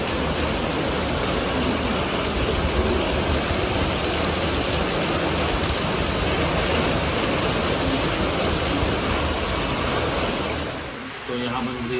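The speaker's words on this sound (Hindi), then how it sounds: "जबरदस्त बारिश, इसका हमको बेसब्री से इंतज़ार था।" Heavy monsoon rain pours steadily as a dense, loud, continuous hiss that fills the whole scene, easing slightly near the end.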